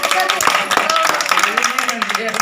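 A group of women at a skill training session in Kota clap for a well-made leaf bowl. Dense, steady applause fills the whole stretch at close range, with voices mixed in.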